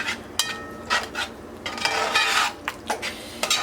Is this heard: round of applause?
no